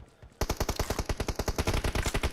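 Uzi submachine gun fire in the PUBG Mobile video game, a quiet lead-in followed by a long, loud, rapid burst of evenly spaced shots without pause.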